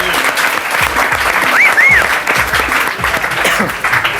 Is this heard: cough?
no